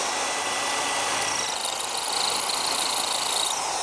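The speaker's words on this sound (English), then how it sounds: "Right, I've drilled all the holes with the chain drilling." Power drill chain drilling a row of holes in a workpiece, a loud continuous whirring drone that holds steady for several seconds before easing slightly at the end, with no talking.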